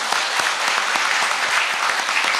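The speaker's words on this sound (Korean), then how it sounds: "여러분 동의하시면 박수 한번 쳐주시죠." Audience applause at a university's 69th anniversary ceremony, a dense steady clapping from a large crowd that fills the whole stretch at an even level.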